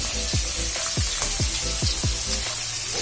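Potatoes fry in mustard oil with a loud, steady sizzling hiss, close up, broken by a regular series of low dull thumps.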